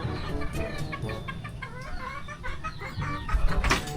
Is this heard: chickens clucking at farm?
yes